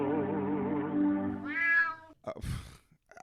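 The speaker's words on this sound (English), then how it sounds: "I almost stepped on the cat again." A house cat gives a long, drawn-out meow that rises and wavers, followed by a few shorter meows and rustling close by.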